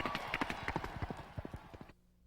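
Runaway chariot horses gallop across an ancient Olympia hippodrome track, a fast, uneven drumming of hooves that lasts almost two seconds and then cuts off abruptly.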